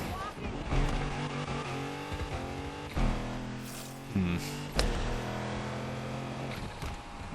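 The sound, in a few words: BMW M1 engine driving in Need for Speed Unbound video game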